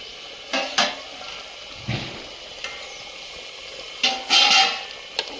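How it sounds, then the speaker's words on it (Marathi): A spoon clanks and scrapes against a metal pot of mutton on a wood-fired stove in irregular bursts, with soft sizzling in between and no talking. "गरम करून पाणी वाटायचं बरं का हलवून घ्यायचं चांगलं"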